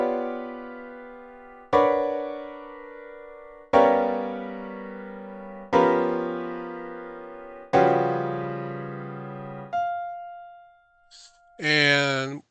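Five sustained chords of a composition ring out one after another, each struck sharply and left to decay for about two seconds. A short voice-like swell follows near the end.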